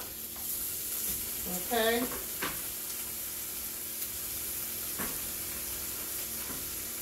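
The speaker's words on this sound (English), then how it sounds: "So our French toast is cooking up pretty good" French toast and Canadian bacon sizzle together in one pan in a home kitchen, a steady moderate hiss with a few soft utensil taps and one brief spoken word.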